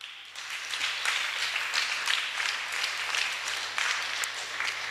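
An audience claps together in sustained, dense applause that stays steady and fairly loud from start to finish.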